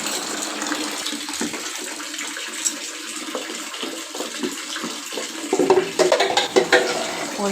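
Water splashes and sloshes as clothes are put to soak in a basin, with steady running and swishing that grows louder and choppier toward the end.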